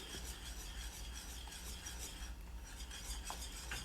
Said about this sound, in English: I'm slowly bringing it to a boil, but I will continue stirring